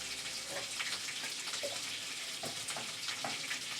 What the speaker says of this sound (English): I'm going to drain this.